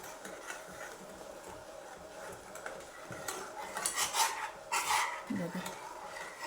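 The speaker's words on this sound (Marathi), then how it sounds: "आपण यामध्ये आता साखर घालून घेतलेली आहे आणि त्याला छान ढवळून घेऊया." Sugar is stirred into a boiling sweet dish in a pot, with soft scraping and clinking of the spoon against the pot that grows busier toward the end, amid faint kitchen background noise.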